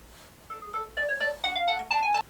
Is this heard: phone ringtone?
yes